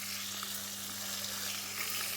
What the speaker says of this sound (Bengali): মাই মাছ ভাজছে